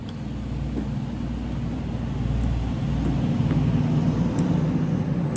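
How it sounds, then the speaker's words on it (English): Continuous road traffic rumbles nearby, a steady low roar of passing vehicles with a faint hiss, no clear voices over it. "Sorry for the road noise."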